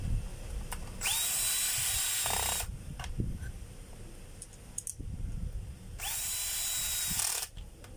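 A power tool drives a screw into a gearbox in two sustained whirring bursts, each about one and a half seconds long, separated by a few seconds of quieter handling noise, all close and loud.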